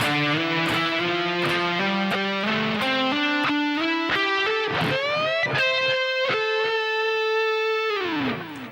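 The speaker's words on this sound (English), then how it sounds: "the next phrase is going to start off with some octaves and sounds like this" Overdriven electric guitar plays octave phrases from a guitar solo, starting with quick stepped notes and then sliding into longer sustained tones that ring out before stopping, loud and up close.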